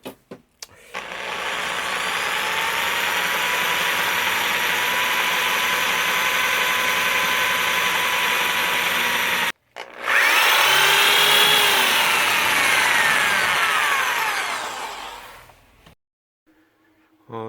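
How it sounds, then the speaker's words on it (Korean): A power drill bores holes into a general-purpose PCB board for a DIY drone build, whining steadily and close for several seconds, stopping briefly, then running again at a slightly higher pitch before cutting off. "드릴 이용해서 구멍을 뚫도록 하겠습니다"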